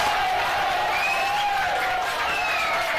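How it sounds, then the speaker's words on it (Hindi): Classroom applause from a group of students, a dense steady clatter of clapping mixed with crowd noise and a few whistles or whoops. "इतना अच्छा answer दिया, ताली बजाओ यार।"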